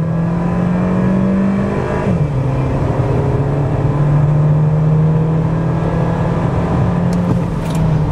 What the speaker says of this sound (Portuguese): A gente percebe que o carro canta pneu aqui na saída.